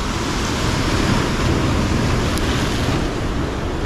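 Big ocean waves surging and crashing near a shoreline fishing spot, a loud dense continuous roar of surf with wind buffeting the microphone.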